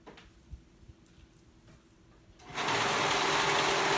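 After a couple of quiet seconds with faint handling noises, a sewing machine starts up and runs in a loud, steady, continuous whir of stitching.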